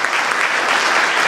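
Audience applause welcoming a professor to the lectern at a medical lecture, a dense, steady clapping that holds level and loud through its whole length.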